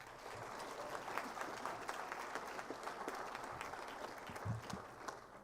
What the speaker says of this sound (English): So one more big round of applause for them.